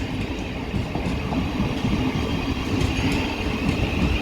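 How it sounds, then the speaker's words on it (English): A train arriving at Three Bridges station, a continuous loud rumble of rolling wheels with rhythmic clicking over rail joints and faint squeals, close by. "There's our train, it's just there."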